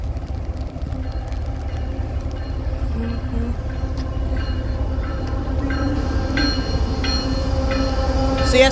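A long CSX intermodal freight train passing on a rainy day, loud and close, with a continuous rumble of wheels on rails, rhythmic clacking and squealing metal that grows toward the end.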